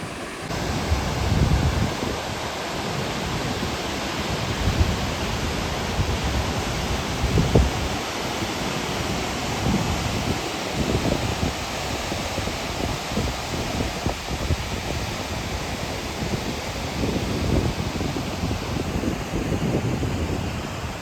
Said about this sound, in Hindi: बहुत ही सुंदर वाटरफॉल है, बेहतरीन सुंदर वाटरफॉल है